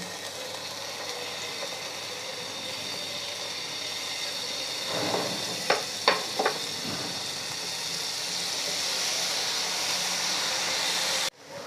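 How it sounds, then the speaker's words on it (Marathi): A quarter kilo of paneer fries in oil in a hot pan with a faint, even hiss, broken midway by a few sharp spatula clacks before the sizzle settles again. "आता हे पनीर आपल्याला हलकसं सोनेरी रंगावर परतून घ्यायचं आहे।"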